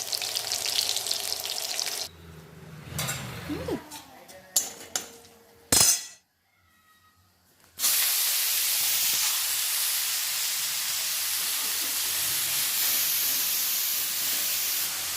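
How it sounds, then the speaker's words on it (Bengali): Potato pieces frying in hot oil, a steady loud sizzling hiss that starts up after a few clatters and a brief quiet gap, then continues unbroken. "প্রথমে আমি এই আলুগুলোই ভেজে নিচ্ছি।"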